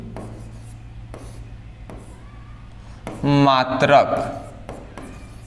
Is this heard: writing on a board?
yes